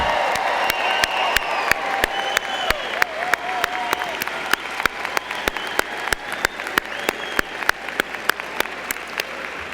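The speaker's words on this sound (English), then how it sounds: "I am going to be testing your clapping and your shouting and your pulmonary sort of exertion in a few moments again" Applause and cheering from a crowd at a university graduate fall commencement, with steady clapping, whoops and shouts, and sharp nearby claps cracking out at a regular rhythm over the roar.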